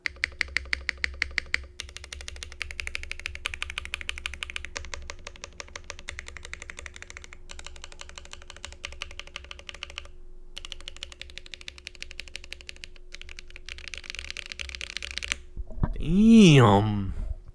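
Typing on a Time65 mechanical keyboard, a dense run of quick, clacky keystrokes going on steadily with brief pauses. It ends in a short burst of louder tonal sound, with a faint voice in the background.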